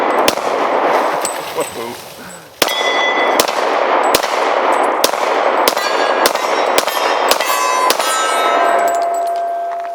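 A .40-caliber handgun fires about a dozen sharp, loud shots at a metal target. Each report is followed by a bright ringing clang, and one person exclaims between shots.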